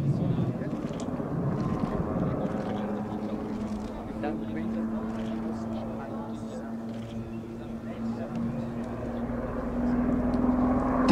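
Eurocopter TH98 Cougar Super Puma AS-532UL helicopter of the Swiss Air Force in a flying display, a steady loud rotor and turbine drone with wind buffeting, constant and fairly near throughout, while a commentator talks over it.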